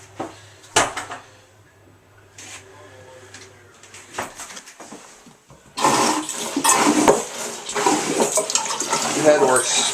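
A marine toilet (head) on a 2009 Leopard 40 catamaran is flushed, with a few clunks and knocks at first, then a loud rushing, gurgling surge of water.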